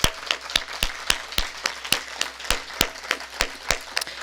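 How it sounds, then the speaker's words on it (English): Sparse applause from a small audience at a talk, heard as distinct separate claps in a loose, fairly even rhythm over a quiet background, with no voices. "I just want to give a round of applause for this team because they are incredible."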